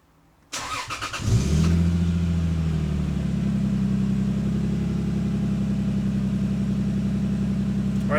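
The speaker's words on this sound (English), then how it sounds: "let me turn on the car" A 2001-2005 Lexus IS300 cold-starting: a short cranking burst, then the engine catches and settles into a steady, elevated cold idle, close and continuous with no talk.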